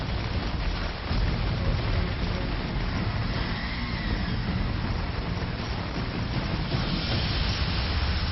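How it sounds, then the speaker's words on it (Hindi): Steady, dense hiss of heavy monsoon rain during flooding, loud and unbroken throughout with no talk over it. "जब बादलों ने बरसना शुरू किया तो यही फुहार फुफकारने लगी"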